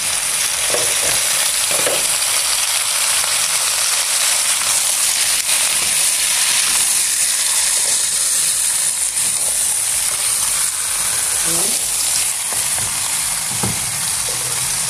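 Chicken fries in a pan with a loud, steady sizzle and hiss that runs unbroken throughout, with a few faint clinks and stirring noises underneath.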